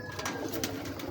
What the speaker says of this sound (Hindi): ये प्योर छत वाला कबूतर है